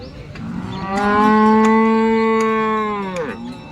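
A cow moos at a cattle market in Sangola, one long, loud, drawn-out call that swells in the middle and tapers off, heard alone without talk.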